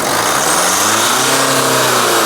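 A Sprinter van with almost a million miles and an exhaust leak is revved hard close by, its engine note climbing and holding in a loud, rough, steady roar with no voices.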